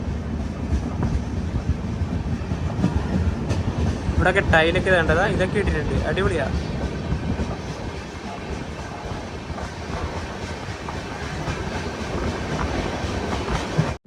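Inside a 3AC coach of the Kerala Express running from New Delhi to Thiruvananthapuram, a steady rumble and wheel clatter continue throughout while someone talks over it.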